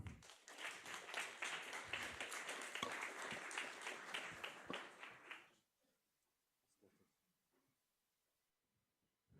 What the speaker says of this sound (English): Then big round of applause.